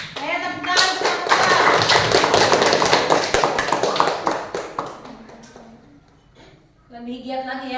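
Students applauding a group in class: loud, dense clapping from many hands for about four seconds, thinning out and stopping before a voice speaks again.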